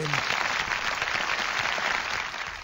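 Sustained applause for football coach Almirón fills the space, dense and even from start to finish, with a brief voice at the very beginning.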